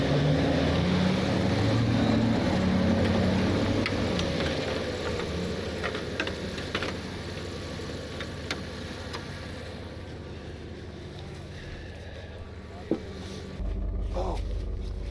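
Skid steer engine running steadily on a rural roadside, a broad continuous rumble with wind buffeting the microphone, fading slightly over time with a few small clicks and knocks near the end.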